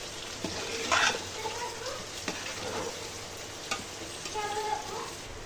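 Chicken biryani masala with pepper and cumin powder being stirred in a hot pan, a steady sizzle under scattered scraping stirs and clacks, no talking.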